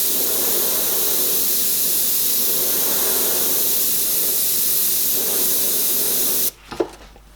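Airbrush spraying a light mist of paint onto artwork, a continuous, even hiss held close for over six seconds before cutting off abruptly, followed by a few faint handling clicks.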